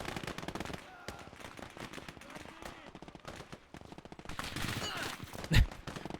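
Rapid bursts of World War II gunfire in the game Gates of Hell, with machine-gun rattle and scattered rifle shots crackling nearby and a louder blast near the end.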